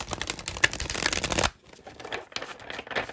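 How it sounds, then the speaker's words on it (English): Tarot cards shuffled by hand, with a dense, loud riffling flutter for about a second and a half, then a quieter rustle and soft card handling as the deck settles. "let's just shuffle the deck one more time, and then we will pull the cards"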